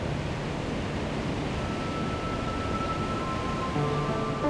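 Roaring water at Willamette Falls, a dense, steady broadband rush that stays even and fairly distant throughout, with no voices over it.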